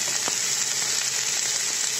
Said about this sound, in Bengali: পেঁয়াজ কুচি, কাঁচামরিচ কুচি, সাথে রসুন কুচি দিয়ে দিচ্ছি।